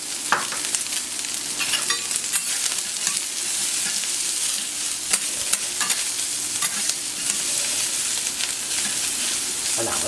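Espelette-spiced bacon browns on a hot plancha, giving a steady, close sizzle and fry with scattered clicks and scraping stirs throughout, and no talking.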